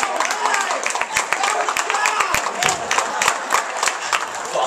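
A studio audience applauds for a contestant named John at a business-analysis dance-style show, dense sustained clapping with sharp individual claps standing out, loud and close, with some voices mixed in.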